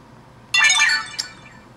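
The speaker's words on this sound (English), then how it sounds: "Once you do that, you're going to get a notification." A T-Mobile G1 phone plays a short bright chime as its notification alert, rising suddenly out of quiet and fading away within a second, with a small clink-like accent near the end.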